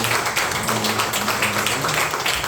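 Church congregation applauding at a Sunday afternoon praise service, a dense steady patter of many hands clapping throughout with no break.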